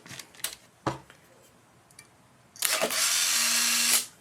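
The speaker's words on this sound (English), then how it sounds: "the shutter should fire" A film camera's shutter fires after a battery check: a few faint clicks and taps, then a loud whirring mechanical burst of about one and a half seconds that stops abruptly.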